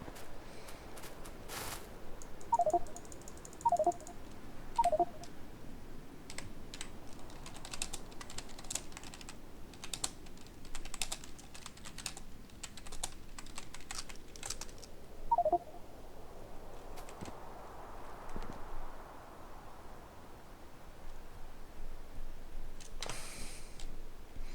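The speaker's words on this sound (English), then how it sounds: "typing in this game is so hard" Keys clacking on a computer keyboard during a Factorio session, a few quick bursts of taps early on and another short cluster later, over a low steady game ambience.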